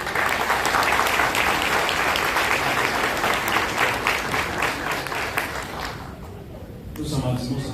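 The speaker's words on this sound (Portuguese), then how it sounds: "aplauda o Senhor Jesus" A church congregation applauding during a festival service, loud sustained clapping from a full hall that fades out near the end, with a voice beginning to speak as it dies away.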